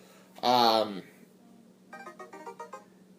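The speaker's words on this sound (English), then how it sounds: "I just got a text message." A text message notification on a phone chimes as a quick run of bright, evenly spaced tones, following a short loud vocal burst, against a quiet background.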